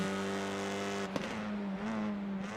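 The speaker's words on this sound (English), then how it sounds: "Yep, that throttle pickup sounds amazing on the car." Race car engine in a touring car racing sim at Snetterton: a sustained, loud revving tone holds steady, briefly dips around a shift, then climbs again, heard alone.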